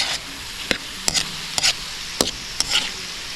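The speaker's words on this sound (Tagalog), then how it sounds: "You really have to cook the spices before you're going to put your pork." Spices fry in oil as the base for bagoong shrimp paste cooked on a Palau island, under a steady close sizzle broken by about six sharp utensil scrapes and stirs at uneven intervals, with no voices.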